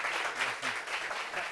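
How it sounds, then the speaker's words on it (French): Audience applause at a French comedy show, a steady wash of clapping lasting the whole moment, moderately loud with no talk over it. "Applaudissements pour le bleu syndical."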